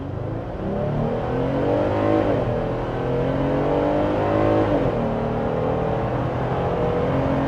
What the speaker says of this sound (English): Two-wheel drive, off the line, on the gas.